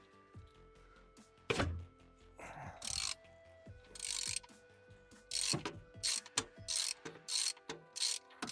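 A ratchet tightens a part on a Renault 21 mirror in close, repeated bursts of clicking. The strokes come irregularly at first, then in a quicker series of short turns with brief pauses between them.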